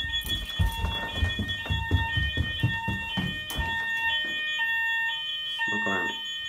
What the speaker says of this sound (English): Fire alarm is going off.